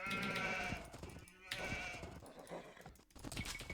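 Sheep bleat repeatedly in the Age of Empires video game, several overlapping calls in quick succession, loud and close, with no talk over them.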